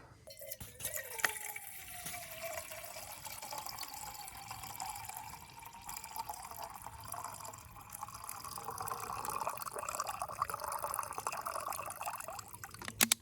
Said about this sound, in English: we gotta add some water